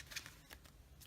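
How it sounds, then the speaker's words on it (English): A few quiet snips and rustles of scissors trimming excess paper from a handmade card, close and faint. "So just bring in some good scissors and trim that down."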